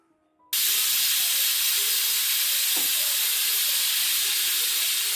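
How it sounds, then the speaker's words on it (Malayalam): A pressure cooker cooking egg mandi lets off a single loud, sustained steam whistle and hiss that bursts on after a brief quiet moment and holds steady close by, with no talking. "മീഡിയം ടു ഹൈ ഫ്ലെയിമിൽ വെച്ച് ഒരൊറ്റ വിസിലൊന്ന് അടുപ്പിച്ചെടുത്തതിന് ശേഷം നമുക്ക് ഫ്ലെയിം ഓഫ് ചെയ്യാം"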